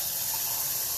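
Hot water pours steadily into a pot holding a dissolved stock cube, a close, continuous hissing gush of liquid for about a second with no talking.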